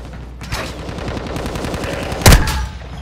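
Rapid automatic gunfire in Call of Duty, a fast rattling burst of close shots ending in a loud sharp blast.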